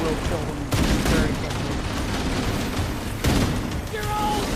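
Heavy cannon fire against the Flood in the video game Halo, loud sustained bursts of gunfire and booms across the whole clip with two sharp onsets, mixed with game voices and sound effects.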